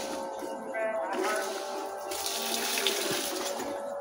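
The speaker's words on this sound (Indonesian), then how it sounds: "Ya, saya siram." Citrus and other potted plants on a home terrace being watered, giving a steady rushing, splashing stream of water that swells partway through, with faint talk underneath.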